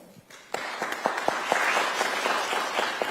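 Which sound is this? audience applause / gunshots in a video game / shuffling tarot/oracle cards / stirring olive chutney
audience applause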